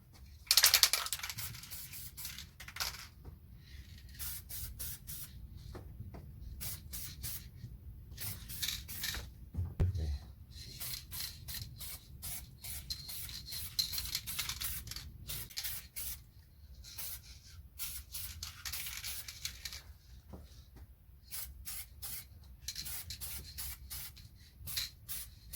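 Gold aerosol paint sprayed onto a brake caliper outdoors on a windy day: repeated short and long hissing bursts with irregular pauses, nearby, over a low rumble of wind.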